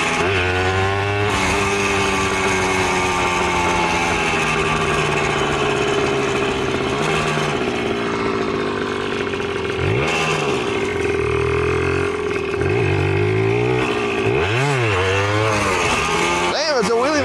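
A Suzuki DS80 80cc two-stroke dirt bike engine runs loud and close, holding a buzzing idle and then revving up and down in repeated rising and falling swells.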